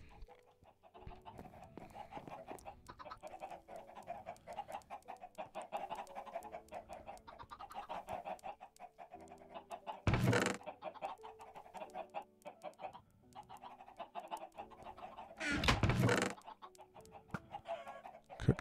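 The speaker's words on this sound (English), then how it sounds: "Chickens in here somewhere." Chickens clucking in a Minecraft farm, a steady run of soft game-style clucks and chatter with two louder, brighter bursts partway through, no talking over it.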